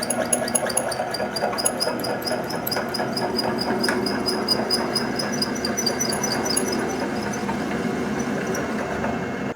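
A drill turns slowly at about 300 RPM, drilling out the threads in an aluminum part for a HeliCoil repair: a continuous close whirring with a rapid, regular ticking chatter of the bit cutting metal, no voices.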